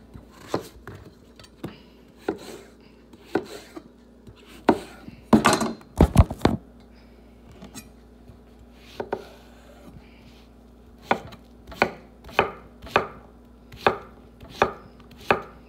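Knife chopping vegetables on a cutting board, with crisp, evenly spaced knocks in a steady rhythm and a brief burst of faster, louder chops partway through, close and clear without talk.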